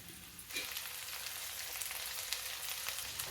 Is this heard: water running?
no